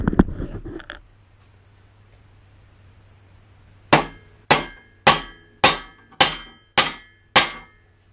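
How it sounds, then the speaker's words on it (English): Seven sharp, ringing hammer blows on metal during BMW Z4 intake manifold removal, at a steady rhythm, close and loud, each decaying quickly, after a brief stretch of quiet and a short burst of movement noise. "my best bet is going to be with a hammer on the back side of this"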